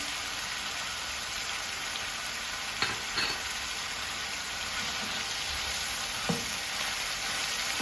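Meat and spices fry in a pan for a mushroom sauté with a steady, close hiss, while a few soft scrapes from stirring stand out above the constant crackle.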